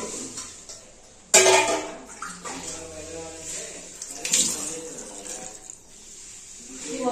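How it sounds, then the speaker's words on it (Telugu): Water is poured into a cooking pot in a home kitchen, a sudden loud splash and gush that settles into an uneven trickle over several seconds, with a few metallic knocks of the pot. "ఇందులో అయితే వాటర్ వేస్తున్నాను"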